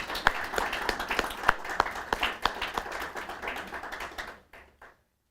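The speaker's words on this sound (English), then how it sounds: "would you give them a round of applause?" Applause at a school district opening-day event, with distinct sharp individual claps over a rippling crowd clap that tapers off and stops.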